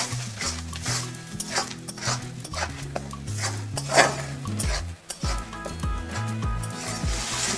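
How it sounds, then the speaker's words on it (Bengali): Garlic, ginger paste and salt stirred in oil in a pan, repeated scraping and clinking of a utensil against the pan in an uneven rhythm, close and moderately loud, over a soft sizzle, with music in the background. "নাড়িয়ে নিয়ে ভালো করে তেলের সাথে"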